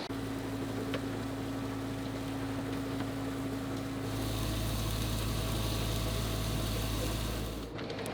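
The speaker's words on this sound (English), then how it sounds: "with the engine on it's a bit noisy in the cockpit" Sailboat engine motoring at night, a steady low droning hum with a constant tonal whine, heard from the bow, continuous and fairly quiet with a slight shift in tone midway.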